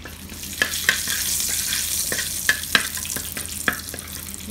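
Curry fried rice frying in a pan, with a close continuous sizzle broken by sharp scrapes and clacks of a spatula stirring the rice at an uneven rhythm.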